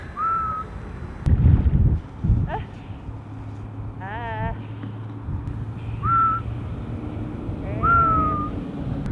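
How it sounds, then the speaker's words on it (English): Korean sea divers whistling as they surface to recover their breath: several sharp, high whistles, some drawn out and sliding, spread across the stretch at moderate distance, with wind buffeting the microphone and water splashing in between. "These guys have a really interesting breath hold technique where they like whistle"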